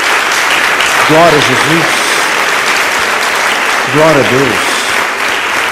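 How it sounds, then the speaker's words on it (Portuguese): Church congregation applauding, a steady wash of clapping that fills the whole stretch, with a worship leader's voice calling out praise twice over it. "Dê uma salva de palmas ao Senhor."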